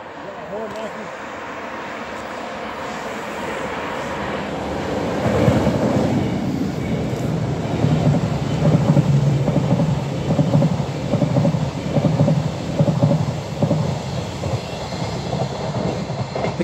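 The Caledonian Sleeper, running overnight from Glasgow Central to London Euston, passes by. A low rumble swells sharply after a few seconds and holds as a loud, continuous roar of wheels and carriages.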